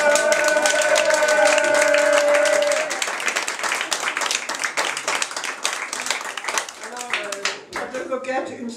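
Audience at a goguette song evening claps for a singer performing there for the first time. The dense clapping mixes with brief voices and fades into scattered claps.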